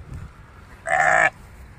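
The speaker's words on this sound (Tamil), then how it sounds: "பாருங்க எவ்வளவு பெரிய ஆட்டு மந்தை கூட்டம்னு" A single wavering bleat, loud and close, rises briefly from a large roadside flock of about 600 sheep, with quiet background noise before and after.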